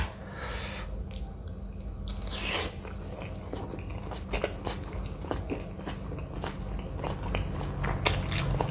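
Close, wet chewing and biting on shellfish from a Thai spicy seafood stir-fry (phat cha thale), with a steady run of crunchy bites and mouth sounds and occasional breaths, no talk.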